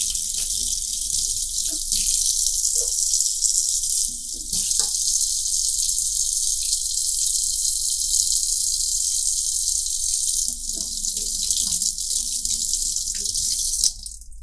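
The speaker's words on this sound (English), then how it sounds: "And I'm just gonna scrub it on both sides and rinse it." Running tap water splashing over an enamel piece in a sink as it is rinsed, a steady close hiss broken by brief interruptions and small knocks as the piece is moved.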